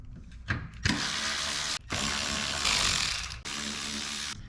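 A ratchet working bolts loose along the bottom of a 2024 Toyota Land Cruiser grille, giving rapid, close clicking bursts separated by brief pauses.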